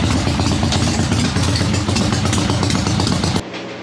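Garelli moped engine idling roughly just after a kick start, a loud, close, steady clattering putter that drops off sharply at the end, no talk.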